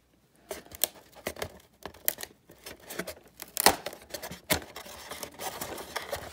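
Scissors snip a piece out of material while building a Freewing Zeus model jet, a series of sharp close cuts and crinkling rustles in irregular bursts, fairly quiet, with no talking.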